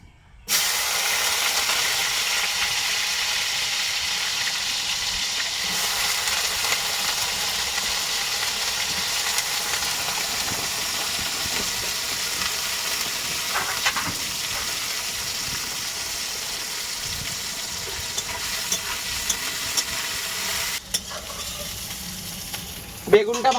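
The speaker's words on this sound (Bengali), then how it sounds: "তেল গরম হয়ে গেছে, এই যে বেগুনটা দিয়ে নেব।" Eggplant fries in hot oil for nimbegun with neem leaves, giving a steady, close, bright sizzle that hisses continuously, with faint stirring scrapes and a few clatters near the end.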